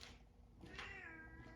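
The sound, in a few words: cat meowing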